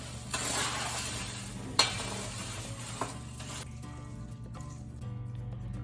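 Tofu-based meat substitute is stirred into a pot of vegan chili, with a spoon scraping and clinking against the pot over a soft sizzle. A few sharp knocks stand out, then the sound eases to a quieter simmer.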